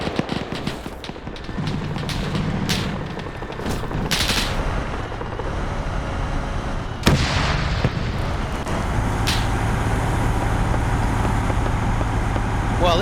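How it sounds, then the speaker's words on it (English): T-34 tank main gun firing in a WW2 battle game, loud booming shots among a dense clatter of gunfire and rumbling engines, with one especially sharp blast near the middle and voices talking over the chaos. "Meanwhile, the T-34 is using its main gun."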